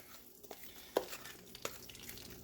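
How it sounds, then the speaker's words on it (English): Cornbread batter going into extremely hot grease in a cast iron skillet, a soft steady sizzle with a couple of sharp metallic clinks from a utensil against the pan, quiet and close. "this grease is extremely hot. So you want to go ahead and get that batter right down in there just like this."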